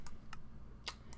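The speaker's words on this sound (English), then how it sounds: "you probably can hear my clicking all of a sudden" Computer mouse or keyboard clicking picked up by a Blue Snowball microphone, four short sharp near clicks spaced irregularly over a quiet low hum.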